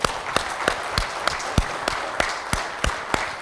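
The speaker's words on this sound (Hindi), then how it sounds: "एक बार जोर से अपने लिए तालियां सबके लिए" Applause at a book publishing event, with sharp, evenly spaced loud claps in a steady rhythm over a softer bed of scattered clapping.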